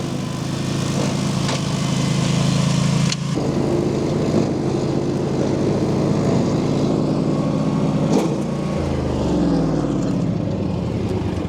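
Etesia Attila AK98X ride-on brush mower cutting through an overgrown field, its engine droning loud and steady throughout with a brief drop in pitch midway and shifting load tones near the end.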